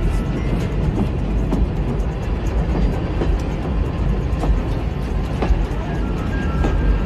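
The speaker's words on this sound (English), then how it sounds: "This movie starts out at a train station, with a train leaving" A continuous rumbling roar of a train leaving a station, with steady low clatter and occasional faint metallic clicks, no voices.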